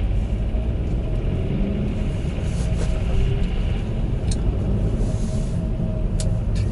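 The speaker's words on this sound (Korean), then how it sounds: "지금처럼 진짜 뭐 2단으로만 1000rpm 정도에서 이렇게 저속으로 주행을 하고 있는데" A Chevrolet Aveo cruising slowly in second gear around 1000 rpm on premium fuel, producing a steady low engine rumble inside the cabin, constant and unbroken with light road noise.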